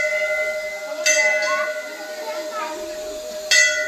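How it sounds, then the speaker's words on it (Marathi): A temple bell rings twice in a temple courtyard, each bright metallic strike followed by a short fading shimmer, over a steady tonal background and faint voices. "घंटा वाजवतीये बघा आता."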